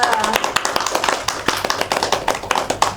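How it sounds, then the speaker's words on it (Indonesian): A classroom audience claps for a student group after their presentation, a burst of close, uneven hand claps that dominates the short moment, with some voices mixed in. "Beri tepuk tangan dulu dong untuk kelompok 2"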